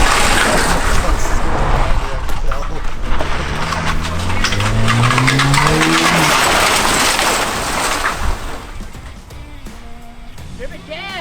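A car engine revs hard and steadily while tires spin, stuck in mud and water, loud and close, with a rising engine whine toward the middle, and people talk over it.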